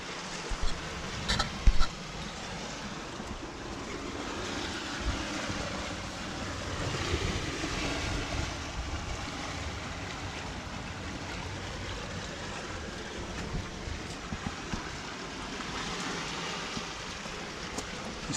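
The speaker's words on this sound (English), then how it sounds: "Chaleur Bay tides coming in through the rock." Tide waves of Chaleur Bay washing through Pokeshaw Rock on the New Brunswick coast, a continuous broad surf rush with wind noise buffeting the microphone and a couple of brief louder knocks early on.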